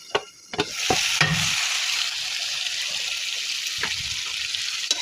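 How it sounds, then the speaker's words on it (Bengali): Rui fish curry frying in a pan as it is stirred, a dense, steady sizzle with a few sharp utensil knocks at the start and near the end, no voices. "এবার এটিকে আমি ভালো করে নেড়ে চেড়ে নেব"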